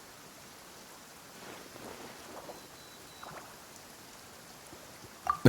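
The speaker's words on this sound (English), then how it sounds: "perhaps today's rain arrived thanks to you" In a video game scene, steady rain falls as a soft, even hiss with a few faint patters and a sharp tap near the end, heard alone with no talking.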